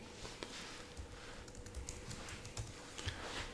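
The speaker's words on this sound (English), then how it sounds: "just start typing" Quiet, close keystrokes tap out a search on a computer keyboard in an irregular run of light clicks, with no talk.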